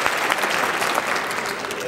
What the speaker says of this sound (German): Klatschen Sie bitte jetzt.